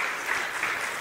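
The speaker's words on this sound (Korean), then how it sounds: "박수로 하나님께 영광 돌리겠습니다." A church congregation applauds, a brief burst of many hands clapping together in a sustained, even roar that stops abruptly at the end, with no talking.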